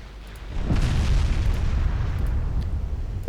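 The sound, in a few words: naval gun salvos hitting in Ultimate Admiral Dreadnoughts video game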